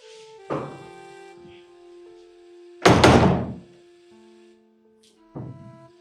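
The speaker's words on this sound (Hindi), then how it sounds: "मैं दरवाजा खोल कर आती हूँ" A household door is handled in several separate bumps: a soft knock, then a loud heavy thunk of the door moving, and a final clunk as it settles, with quiet room tone and a faint tonal background between.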